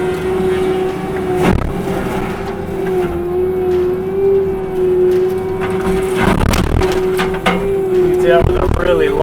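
A disc mulcher works through small popple trees, its engine holding a steady loud drone that sags under load. Loud cracks and crunches of wood being cut burst in near the middle and again at the end.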